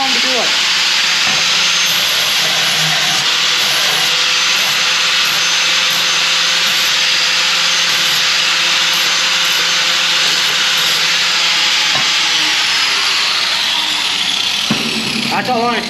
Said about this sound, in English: So just grab your grinder here and just grind those down.